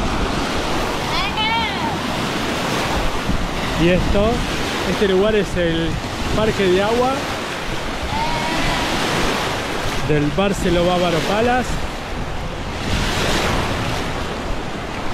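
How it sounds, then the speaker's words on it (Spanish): Artificial waves roll and crash in the wave pool at the Barceló Bávaro Palace water park in Punta Cana, a loud, continuous surf-like rush with some wind noise, while someone talks over it throughout. "Miren las olas artificiales que tiene."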